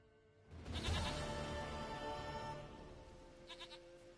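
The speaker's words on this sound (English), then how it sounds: "Goat of mine, dearest, sweetest goat." A goat bleats in a video game, one long wavering cry close up, followed by a short quieter bleat near the end over faint game ambience.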